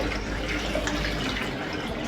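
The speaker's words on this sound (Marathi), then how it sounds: "आता मी ह्याच्यामध्ये पाणी टाकून देत आहे." Water pours steadily and splashes into a container over sliced potatoes, a continuous close gush lasting a couple of seconds without any speech.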